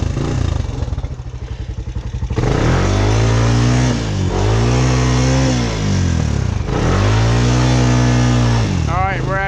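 A Honda Recon ATV crawling through creek mud: the engine idles with a clattery putter, then rises into several sustained revving pulls, loud and close, with splashing mixed in and a voice speaking over parts of it.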